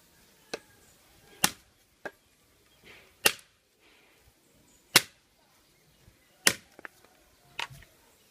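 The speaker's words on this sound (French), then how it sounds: "Maintenant l'autre machette du commerce." Commercial machete chopping into thick wood, about eight sharp, hard thwacks at uneven intervals, close and crisp with quiet pauses between strikes.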